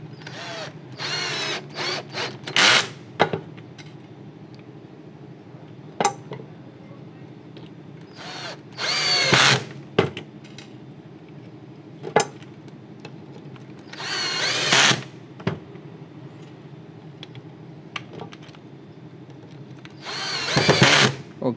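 Bursts of a power drill boring a hole for a bolt head in a homemade PCB clamp, several short whirring runs of varying length separated by pauses and light handling clicks.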